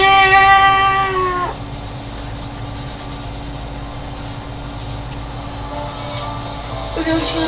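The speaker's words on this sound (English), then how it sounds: "cat!" A cat in the video game Spirit of the North meows in a drawn-out, clear cry at the start, then a steady rumbling background continues before a second short meow near the end.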